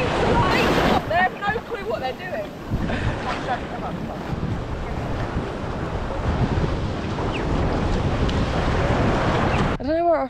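Sea waves wash onto a beach at Santa Maria on Sal, Cape Verde, as a continuous rushing surf heavily mixed with gusting wind buffeting the microphone.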